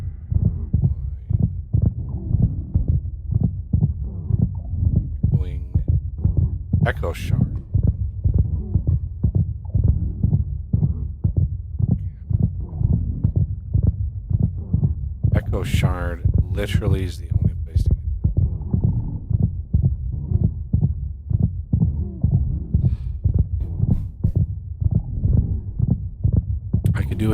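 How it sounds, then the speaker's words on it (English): Steady, regular heartbeat thumps from a Minecraft game pulse throughout, low and throbbing at a quick even rhythm, with a player's voice talking over them and a couple of brief sharp in-game noises. "I could do without the constant heartbeat sounds."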